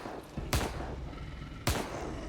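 Two sharp gunshot bursts from a firearm in The Evil Within 2, about a second apart, each a loud crack with a brief low boom and tail over a quiet game background.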